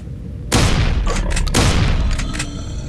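Gunfire in the video game Slenderman Must Die: two heavy booming shots about a second apart, each with a sharp broadband onset and a long rumbling tail, loud and close with no talk.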